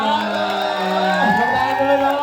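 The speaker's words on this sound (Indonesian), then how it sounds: "tepuk tangan untuk Ana" A crowd cheers and whoops for Ana Jongling at a film press event, sustained loud shouting and cheering voices blending into a dense roar with little distinct clapping.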